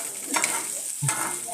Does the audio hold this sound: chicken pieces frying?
yes